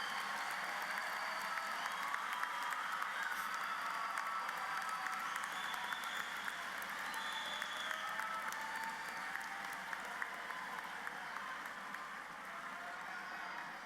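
A large crowd at a Texas A&M International University commencement applauds without pause, a broad, steady roar of clapping, distant and even.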